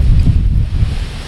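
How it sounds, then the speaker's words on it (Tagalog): Strong wind buffeting a microphone outdoors, a loud, rough low rumble that surges and dips for about a second with no talk. "Lakas ng hangin."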